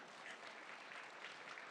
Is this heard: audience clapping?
yes